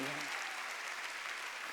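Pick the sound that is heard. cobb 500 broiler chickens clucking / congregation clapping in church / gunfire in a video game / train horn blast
congregation clapping in church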